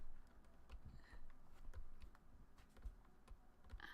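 Computer keyboard keys click in quick, irregular taps while a browser game is played, quiet and close, with no speech.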